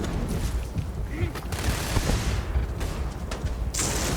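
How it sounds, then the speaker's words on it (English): Laser weapon fire in Starfield, repeated loud zaps and bursts over steady combat noise, with talk running underneath. "Hence why I'm using the laser."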